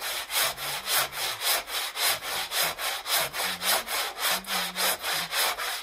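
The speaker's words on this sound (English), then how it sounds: "I have a foam block shaped to a shallow curve that I use in these areas, just holding the sandpaper in place and using diagonal strokes" Sandpaper held on a curved foam block rasps across a carvel-planked wooden boat hull in steady, rhythmic back-and-forth diagonal strokes, close and loud, about three strokes per second, no talk.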